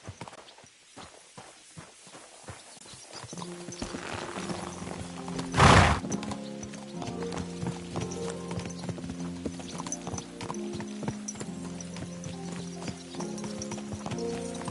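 Horse hoofbeats clip-clop steadily while riding in the medieval game Kingdom Come: Deliverance II, a brisk walking rhythm over low music with a brief loud burst midway.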